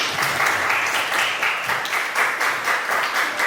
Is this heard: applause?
yes